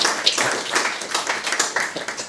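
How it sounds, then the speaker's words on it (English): A small group claps after a presentation, a scattered patter of hands at moderate volume with no cheering, lasting a couple of seconds. "I think we can give a round of applause."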